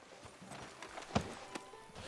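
Horse hooves from a walking horse in the Red Dead Redemption 2 video game, a few soft clip-clop thuds spread across a short quiet stretch, with one sharper knock standing out midway.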